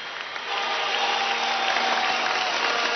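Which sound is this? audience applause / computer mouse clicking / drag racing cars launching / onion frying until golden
audience applause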